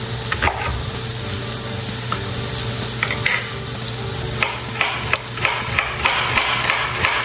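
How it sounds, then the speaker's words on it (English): A knife slices an onion into thin strips on a board, with repeated firm chopping taps close by, spaced unevenly and growing more frequent toward the end over a steady low background hum. "Cut the onion."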